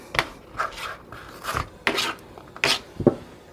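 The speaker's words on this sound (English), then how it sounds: "I've got some lettuce. We're just going to chop that up." Lettuce chopped with a knife on a board, several separate cuts about half a second apart, close and fairly loud, no talking.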